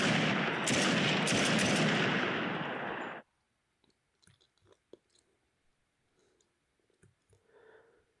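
Gunfire from a player in a video game prototype rattles off as a dense, loud burst of rapid shots for about three seconds, then cuts to near silence broken by faint scattered clicks and small noises.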